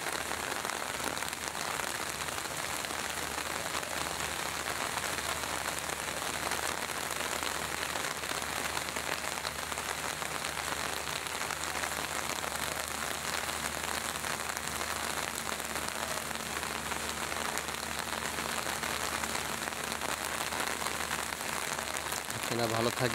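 Rain pours onto a rooftop garden on a wet morning, an even, unbroken patter and hiss of drops on plants and roof surfaces throughout.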